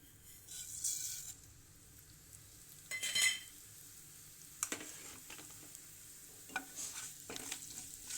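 Cumin and mustard seeds frying in hot oil in a pan for a Kannada-style pumpkin palya, giving quiet, intermittent crackling and spluttering bursts in a soft steady sizzle, with no talk.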